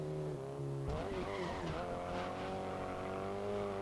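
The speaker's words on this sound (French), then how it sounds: "le bruit des pneus, par contre, il est un peu abusé" Racing car tires squealing in the video game GRID, engine tone dropping and then a long sliding screech with engine whine carrying on beneath.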